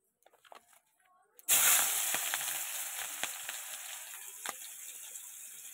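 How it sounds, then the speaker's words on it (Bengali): Onions hit hot oil in a wok with a sudden loud sizzle after a short quiet moment, then keep frying in a continuous crackling hiss with small pops. "তো তার আগে সবার প্রথমে আমি কড়াইতে দিয়ে দিচ্ছি পেঁয়াজ"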